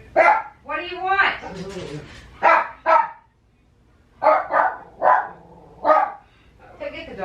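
Louie, a household dog, barks sharply in a home kitchen during Thanksgiving cooking prep: a quick burst of barks, a short pause, then several more evenly spaced barks, close and loud.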